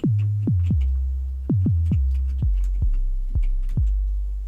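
Deep synthesized 808 bass made in Serum booms in a loose rhythmic pattern, each punchy attack dropped an octave and sliding into a long, heavy low-end tail.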